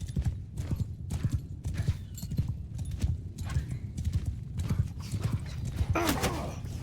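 Horse archers ride across a battlefield in Mount and Blade 2 Bannerlord with a Lord of the Rings Rohan mod, giving a fast, overlapping clatter of many hooves, then a horse's whinny near the end.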